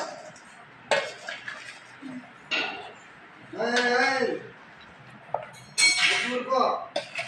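Avakaya mango pickle mixed in a vessel makes soft, intermittent clinks and scraping bursts, separated by pauses, with a person talking between the mixing sounds.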